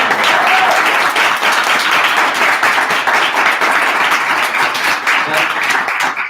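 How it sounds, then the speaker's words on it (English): Dense, steady applause from a crowd at a staff training session, honoring a team member; the clapping fills all six seconds at full strength with a busy, crackling texture, and voices may blend in. "Give Shondell a huge round of applause."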